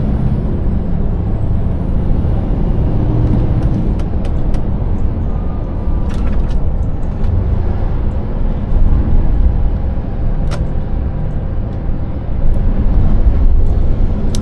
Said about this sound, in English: Let's hear the V8 sing along these lanes.